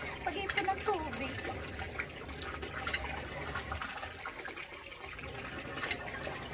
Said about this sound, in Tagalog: Pag-ipon ng tubig.